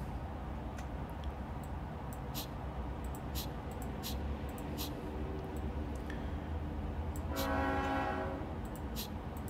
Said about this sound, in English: And there's a train outside, of course.